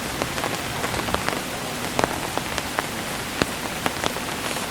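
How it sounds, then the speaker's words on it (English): Light rain sprinkling in the woods, a close, steady patter of scattered drops with no voices present. "had a little tiny let up in the rain, you know, where it was just sprinkling"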